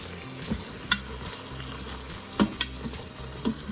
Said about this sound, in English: keep stirring them, and keep letting them caramelize